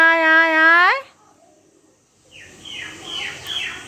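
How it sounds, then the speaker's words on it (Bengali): A person calls pigeons to come and feed with a loud, drawn-out, sung call, followed by a pause and then fainter, scattered high chirps. "এই যে একটা, এই যে পায়রা খাবে, আসো তুমি"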